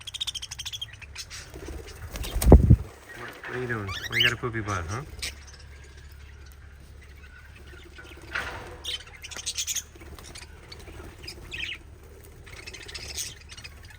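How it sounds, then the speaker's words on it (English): Cockatiels and budgies squabbling in a small parrot aviary, with chirps, squawks and a loud burst of calling plus brief wing flutters, heard close and mixed with a person talking to the birds. "seems to be a war between the cockatiels and the budgies"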